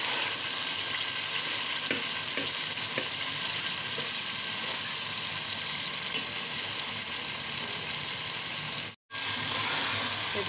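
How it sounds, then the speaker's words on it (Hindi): Potatoes and meat frying in masala for aloo gosht pulao, giving a steady, loud, close sizzle that runs unbroken apart from a brief cut near the end, with faint stirring clicks and no talking. "तो देखिए बहुत अच्छे तरीके से गोश्त भून चुका है आलू और गोश्त।"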